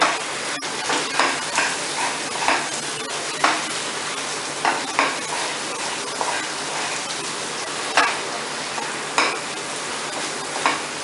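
A spatula stirs thick masala with dry mango powder in a pan for a restaurant-style methi matar mushroom dish, rhythmic scraping knocks over a continuous sizzle, close and fairly loud.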